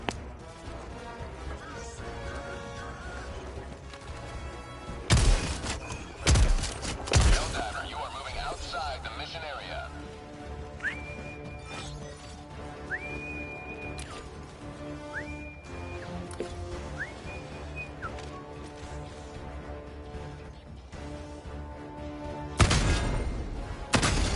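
Gunfire in the Helldivers 2 shooter, a few loud bangs and crashing impacts around the middle and again at the end, set against a continuous music and game backdrop with talk throughout.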